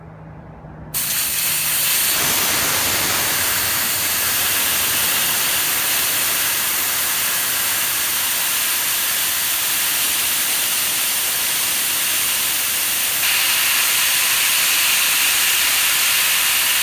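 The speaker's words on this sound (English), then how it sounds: "So the first thing I have to do is I have to release all the pressure." Gas pressure on a nitro keg vents through its valve in a loud, steady hiss that bursts on abruptly and runs continuously, close and alone.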